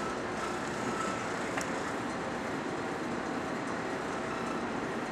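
Leblond 15 x 34 heavy-duty toolroom lathe turning at 119 RPM, a smooth, steady, quiet low hum with faint mechanical whir, continuous and unchanging throughout.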